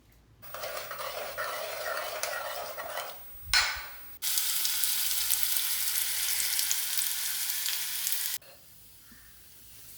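Shallots and curry leaves fry in coconut oil with bursts of bright, crackling sizzle: a long spell, a brief flare with a clatter, then another sustained stretch before it drops back to a quiet hush.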